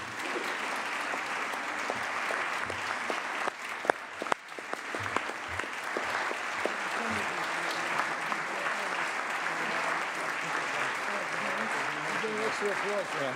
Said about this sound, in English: Extra applause.